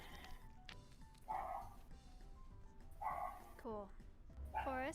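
A dog gives several short barks and rising, whining yips, spaced a second or two apart, mixed in among people talking.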